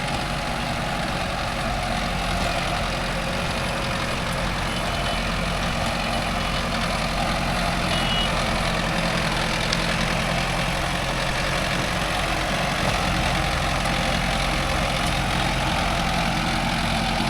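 A Mahindra 575 DI tractor, out in the field with a cultivator, runs its diesel engine in a steady low rumble that holds an even drone throughout and is heard without any talk.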